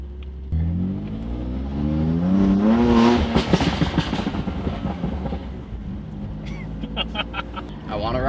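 A BMW F80 M3 engine, tuned to stage 2, revs up sharply then drops through quick downshifts, loud and close, with crackling pops as it winds down.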